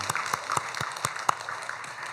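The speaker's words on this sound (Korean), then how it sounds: "역시 환영의 박수 한번 하겠습니다." A church congregation gives a welcoming round of applause during a Sunday service, a brief scattering of claps, moderately close and fairly quiet, with no talking over it.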